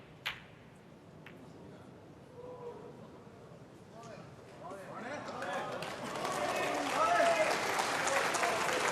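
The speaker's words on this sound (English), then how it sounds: "you can hear the applause from the crowd" Crowd applause at a snooker semi-final between two professional players at the Xi'an Grand Prix, rising gradually from a thin patter to fuller, sustained clapping in the second half, with commentators talking over it throughout.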